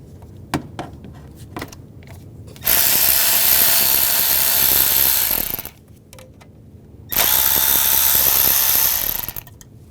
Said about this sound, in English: And using a T30 socket,